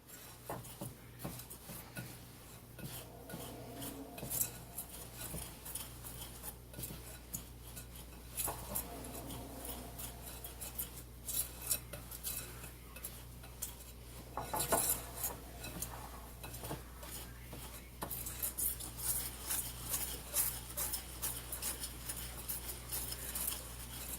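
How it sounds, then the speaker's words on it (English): Ingredients for spiced Russian tea being stirred together in a container, a continuous soft scraping and clinking of a spoon with irregular taps and rattles, close by and steady throughout, with no voices. "you're going to mix that all up in there together like this. Make sure that it's all blended good"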